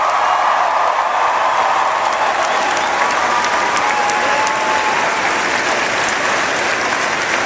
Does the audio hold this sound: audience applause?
yes